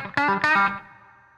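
Twangy chicken pickin' electric guitar lick with pull-offs to open strings: a few quick plucked notes in a rapid cluster, then a held note ringing out and decaying, close and clean with no voices.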